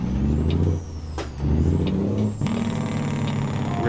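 A Kenworth truck engine in American Truck Simulator revs through rising and falling pitches, with a brief air-brake-like hiss; loud and close, with no talking.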